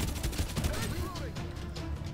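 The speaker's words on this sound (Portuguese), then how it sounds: "Tá rolando tiro ali, tem rolando tiro." Gunfire in the Garena Free Fire mobile game, rapid muffled shots crackling continuously through dense game noise while a voice talks over them.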